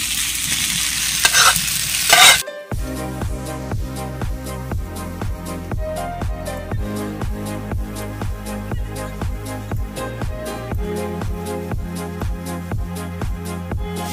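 A spatula stirs a fried egg through pasta in a pan, rhythmic scraping strokes repeating steadily over a soft sizzle after a loud initial burst of frying.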